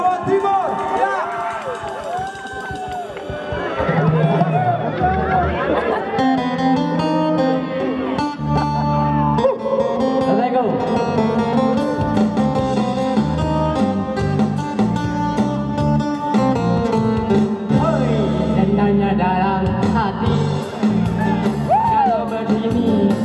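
A loud crowd cheers, whoops and claps for a contestant from Jawa Timur on a stage show, sustained throughout amid music and voices.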